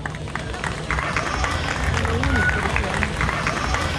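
An audience applauding at a literary poetry festival, a burst of clapping and cheering from a crowd, mixed with voices throughout.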